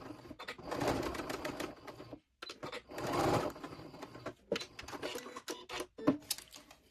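A sewing machine backstitches a yoga mat strap holding a D-ring, running in close, rapid bursts of stitching with a short pause between runs and a few handling clicks.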